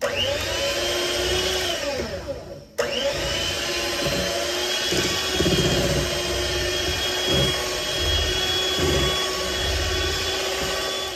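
Electric mixer blending cheesecake batter, a loud continuous motor whir with a brief dip and restart, then steady churning with faint rhythmic thumps of the beaters against the bowl.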